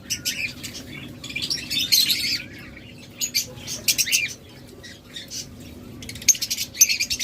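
A pair of blue-mask pet lovebirds in a cage gives bursts of high, sharp chirps and chatter over a low background hum, with brief pauses between the clusters.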